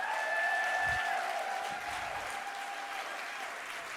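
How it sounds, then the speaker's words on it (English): Steady applause from an audience at a Women's Equality Day event, a continuous wash of clapping at even volume, with a faint high tone heard briefly near the start. "give those wonderful suffragists a round of applause for their courage"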